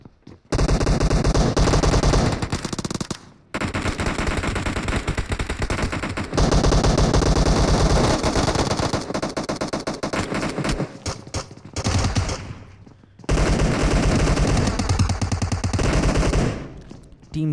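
Rapid automatic gunfire in PUBG Mobile at Military Base, loud dense bursts of fire filling most of the stretch, broken by a few short pauses before the shooting picks up again.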